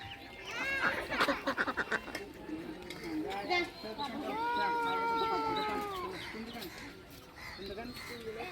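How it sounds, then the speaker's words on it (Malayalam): Ducks quacking repeatedly, a flurry of loud calls early on, then longer drawn-out quacks, over a busy outdoor background. "താറാവ്"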